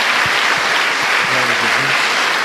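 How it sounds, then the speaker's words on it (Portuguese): A church congregation gives loud, dense applause to God, a continuous roar of clapping with voices calling out underneath. "Dê uma salva de palmas ao nosso Deus."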